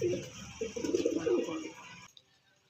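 Breeding pigeons coo softly in a series of low, throaty warbles close by, fading out after about two seconds into quiet.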